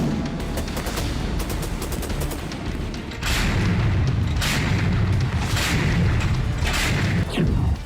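Artillery fire from the Russia-Ukraine war sounds as loud, repeated booms and rumbling blasts, dense and overlapping throughout, with no talk heard over them.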